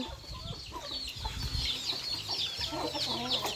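Chickens clucking steadily, with several overlapping birds and a busy farmyard background. No one speaks.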